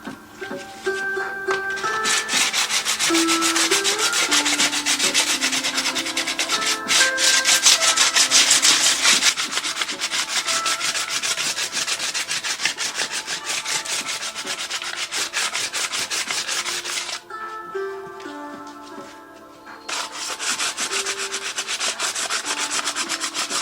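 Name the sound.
sanding a wooden staff smooth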